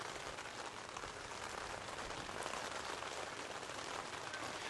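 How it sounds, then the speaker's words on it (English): Steady rain falls at an outdoor baseball stadium during a game, a continuous broadband hiss of drops spread evenly across the whole stretch without pauses. "Rain continues to fall."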